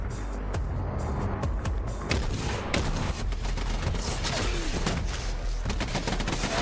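Gunfire in a video game firefight around a building, dense rapid bursts of shots cracking one after another, loud and continuous throughout.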